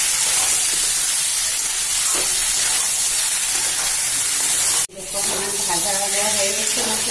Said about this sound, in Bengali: এই দেখো আমার আলুটা ভাজা হয়ে গেছে, এইবার দিয়ে দিবো মাছটা।